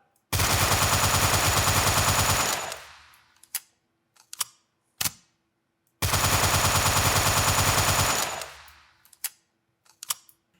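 Automatic gunfire from a first-person shooter built in Unity rings out in two loud sustained bursts, each followed by a scatter of sharp single shots and clicks, with no talking.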